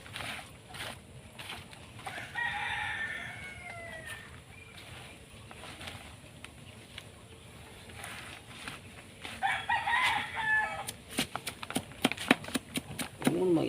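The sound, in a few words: chickens clucking and rooster crowing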